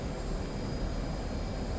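F/A-18 Hornet jet taking off in the DCS flight simulator: a steady, loud broadband engine roar with a deep low rumble, continuous and unchanging throughout, no voices.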